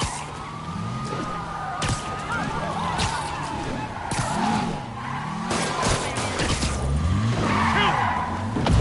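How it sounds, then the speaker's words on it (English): Cars in a Spider-Man video game chase with squealing, skidding tires, wailing police sirens and revving engines, a dense, loud, continuous mix with no voices over it. "All units, we have a vehicle chase in progress."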